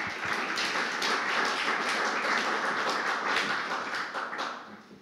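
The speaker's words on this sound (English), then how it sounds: "Please give them a round of applause." Audience applause for panelists at a Web3 branding event in London, a steady wash of clapping from a modest crowd that tapers away near the end.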